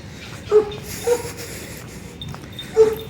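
A thin, underfed dog named Derman whimpers in short, soft whines, three brief cries spaced over a few seconds against quiet outdoor background.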